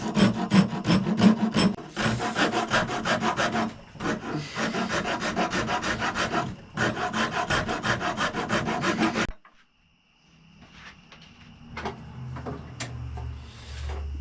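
A 4-in-1 rasp is filed over a cow horn being shaped into a simple powder horn, with loud, rapid rhythmic scraping strokes in short bursts that stop abruptly, followed by quiet handling noises.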